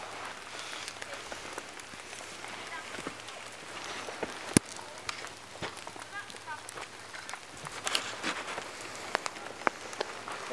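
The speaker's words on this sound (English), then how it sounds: "It's been raining pretty good all morning." Steady rain falls on a walk outdoors, a close, continuous patter of drops on surfaces with scattered sharper taps, and a voice speaks faintly over it at times.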